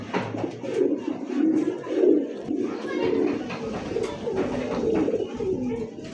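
Pigeons at a farm keeping breeds such as Rajgolla, Giribaz, racers and satins coo repeatedly and close by, their soft rolling calls overlapping in a continuous flock chorus.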